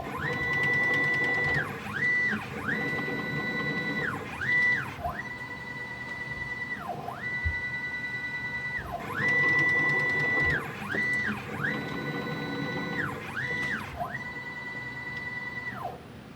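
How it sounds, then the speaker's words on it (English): A 3-axis CNC machine running a demo cycle in a manufacturing lab, its stepper motors whining in repeated rising and falling tones in rhythmic bursts, fairly close with steady mechanical hum beneath. "Here I have a 3-axis CNC machine, and I'm going to show a demo of the machine."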